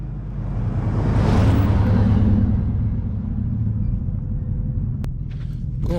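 A heavy Chevy truck grinds roughly through soft sand in a canyon, a loud, continuous low engine rumble that swells and then eases over several seconds, with no talking.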